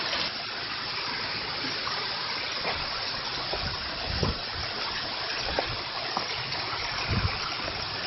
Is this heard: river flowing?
yes